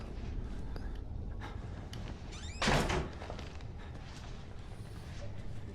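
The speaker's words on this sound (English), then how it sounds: "I might just close the door first." A door shutting in the horror game Outlast, one sharp heavy thunk standing out from a low, dark ambient hum.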